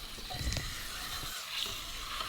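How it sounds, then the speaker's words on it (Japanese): Chicken thighs, seasoned with pepper, go flesh side down into a heated, oiled pan and sear with a steady, faint sizzle and crackle, with a few soft bumps from the pan. "温めた鍋にオイルを入れて、まず内側の面、皮面じゃない面から焼いていきます"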